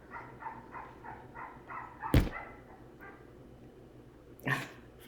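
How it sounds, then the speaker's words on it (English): Mixed-breed pit bull barking outdoors, a faint repeated run of barks followed by two sharper, louder barks, with a sudden sharp crack in between. "I think it's like a mixed pit bull or something."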